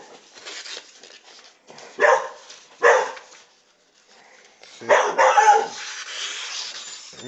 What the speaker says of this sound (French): il y a mon chien qui s'excite derrière